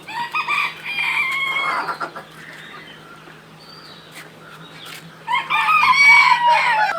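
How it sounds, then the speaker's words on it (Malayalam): Black Kadaknath chickens on a poultry farm, about five months old, clucking and crowing loudly near the start and again toward the end, with a quieter stretch of scattered fowl calls between. "5 മാസത്തോളമായ കരിങ്കോഴികളാണ്."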